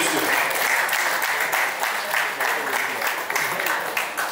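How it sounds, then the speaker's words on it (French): A crowd at a traditional wedding celebration applauds loudly and continuously, with dense, sustained clapping close by for the whole stretch. "Est-ce qu'on peut applaudir pour eux encore une fois de plus, mesdames et messieurs?"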